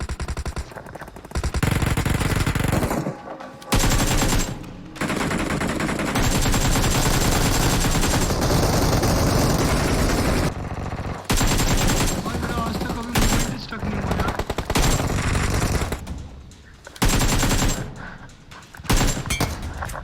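AKM rifle fire in the mobile battle royale game BGMI: repeated loud bursts of automatic gunfire in close succession, broken by short pauses, with a voice speaking in between.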